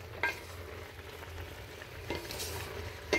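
Pinakbet vegetables with bitter melon being stirred in a pan, with soft scraping strokes over a steady low sizzle and a couple of sharper utensil clinks, close and alone.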